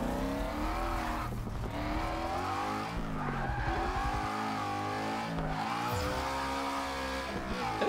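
A car drifting around the Nürburgring in the Forza 6 video game: a continuous engine roar rising and falling with revs, overlaid by steady, sustained tire squeal and skidding, loud and close throughout with no talk.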